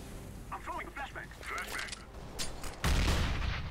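A grenade detonates in a CS:GO match as a loud broadband blast near the end, preceded by scattered game clicks, clatter and faint chirpy in-game effects.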